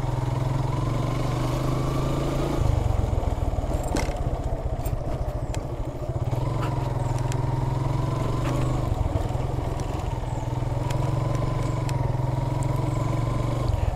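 A Suzuki Gixxer motorcycle climbs a steep hill track at Mirinja Valley, its engine droning loud and steady close up, with gear changes and shifts in pitch and clattering bumps along the way, and no voices.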